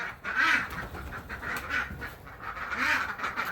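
Ducks quack nearby in short, nasal bursts, a few calls spread across a few seconds over a faint outdoor background.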